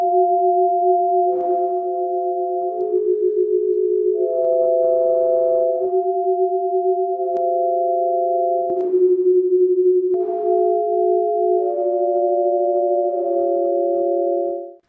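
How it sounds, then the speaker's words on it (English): A series of steady electronic tones, each a chord of pure pitches, shifts every second or two as faces are translated into sound portraits; continuous, close and clean, with no talking. "And then I create sound portraits."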